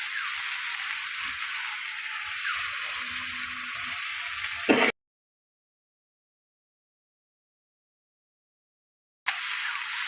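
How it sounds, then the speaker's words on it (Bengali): A paste of ground cumin and chili fries in oil with a close, steady sizzle and faint stirring. The sound cuts to complete silence partway through and then the sizzle returns briefly. "মশলাটা একটু ভাজা ভাজা হয়ে গেল,"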